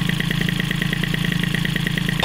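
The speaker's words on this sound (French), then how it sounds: "je vais la laisser chauffer au ralenti comme ça" A Peugeot 103 moped fitted with a Stage6 kit engine idles steadily to warm up, its rapid, even two-stroke putter close and continuous with no voices over it.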